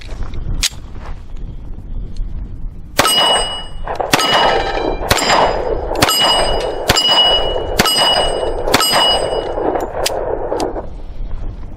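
A .45 ACP Astra A-75 pistol fired at a steel target, sharp metallic clangs ringing out one after another in a steady run of about ten hits, loud and close with no talk.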